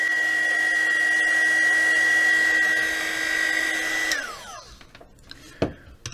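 A KAIWEETS KEH01 mini heat gun blows with a loud, steady whining fan roar for about four seconds, then switches off and its tone winds down, followed by a few faint clicks and knocks.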